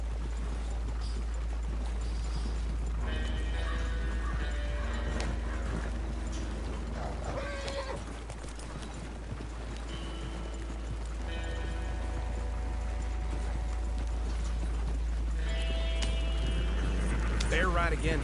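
Hooves clip-clop at a steady gallop as a horse runs in Red Dead Redemption 2, with a neigh, mechanical clatter and a low rumbling bed underneath while a voice talks over it.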